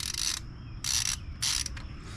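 A SUZUME torque wrench ratchet clicks in three quick bursts of rapid, sharp metallic ticks, close and fairly quiet, with short pauses between.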